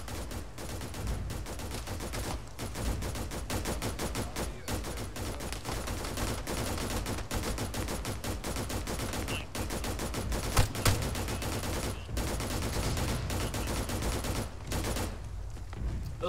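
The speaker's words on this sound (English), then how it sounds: "Those sound like mortars." Distant mortar and artillery fire rumbles almost without a break in ArmA 3, a dense, steady barrage of low booms and crackling shots lasting the whole stretch, with a couple of slightly sharper reports near the end.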